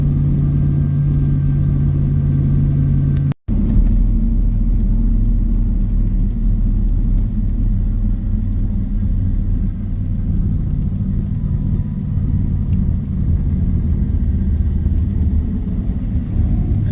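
Truck hauling soybeans to the mill, a loud, steady low engine rumble and road drone inside the cab, broken by one brief dropout before the drive continues evenly.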